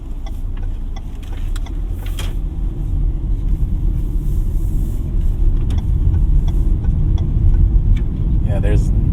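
A 2025 Suzuki Dzire mild hybrid car with a CVT pulling away from a stop, heard from inside as a steady engine hum and road rumble that builds gradually, with faint ticking on top.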